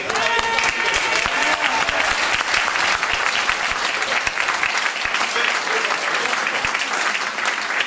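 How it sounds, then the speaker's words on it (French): Loud, thunderous applause fills a political campaign meeting in Stains, a dense steady roar of many clapping hands with some crowd noise, continuing strongly without a break. "Et un tonnerre d'applaudissements"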